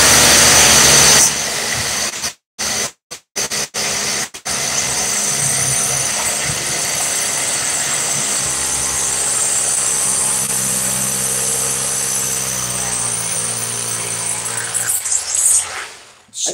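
Milwaukee and DeWalt SDS rotary hammer drills boring in a side-by-side comparison, with a loud, sustained mechanical roar and brief dropouts early on before a long continuous drilling run that cuts off near the end.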